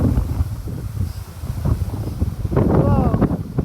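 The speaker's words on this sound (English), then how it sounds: "Windy day." Strong wind gusts roar steadily across the microphone on a windy day in Medicine Hat, Alberta, a loud low rumble throughout, with a voice breaking in near the end.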